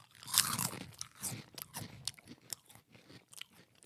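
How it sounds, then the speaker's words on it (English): A spicy Cheetos chip is bitten and crunched up close, with a sharp initial crack followed by several quieter chewing crunches, no talking. "You can taste the spice right as you bite into it."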